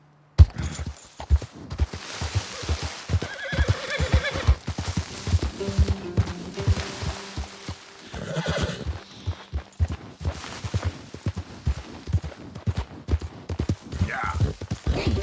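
A horse gallops in the Western video game Red Dead Redemption 2, a dense run of hoof clip-clops with a brief whinny partway through. Game music, distant gunfire and some talk sit in the background.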